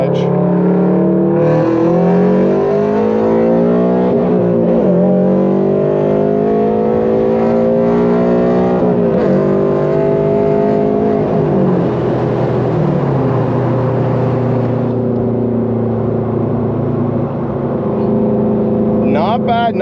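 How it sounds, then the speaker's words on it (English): A car with a newly installed K&N drop-in air filter accelerating hard, its engine note rising and climbing through gears, loud and close from inside, with a brief voice near the end. "I just want to see if this car pulls any better."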